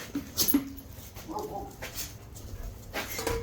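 A dog whimpers and whines in short, high-pitched bursts over a low background hum, fairly close and moderately loud, with no one talking.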